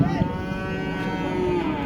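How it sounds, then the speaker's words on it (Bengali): A cow moos loudly and close by at a large cattle market on Mymensingh Road in Gazipur. The single drawn-out call sits over a low murmur of background market noise. "কতগুলো গরু রয়েছে"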